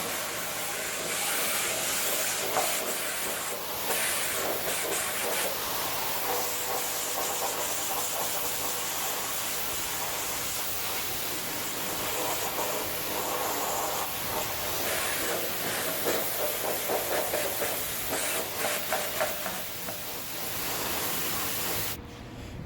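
Water is sprayed onto a fiberglass test piece set on the ground, producing a steady, close, hissing spray that runs continuously with slight fluctuations.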